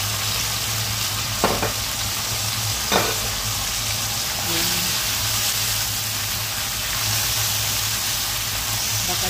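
Pork fries in a pan for adobong baboy, a dense, loud, steady sizzle and crackle close up, with a couple of brief clinks of a utensil and no talk.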